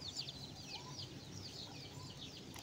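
Chickens cluck softly in a farmyard, a few hens repeating short, chattering calls at a moderate distance over a quiet background hum, with no voices.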